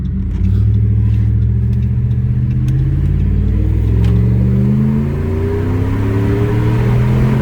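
Engine of a 2012 Ram 1500 Longhorn pickup truck accelerating, a loud, close, steady rising drone that climbs in pitch as the truck gets on the throttle, with no talk over it.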